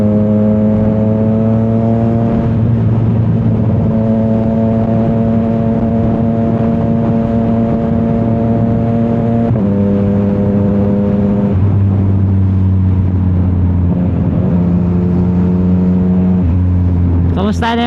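A CFMOTO 675 SR-R motorcycle with its stock exhaust runs smoothly on the road toward Manila, a loud steady engine drone with pitch shifts as it changes speed, with people talking over it.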